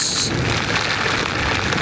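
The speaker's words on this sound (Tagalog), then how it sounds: "Grabe naman sa lakas ng ulan." Dense, steady typhoon downpour of heavy rain hissing across the whole clip, loud and close, with no voices.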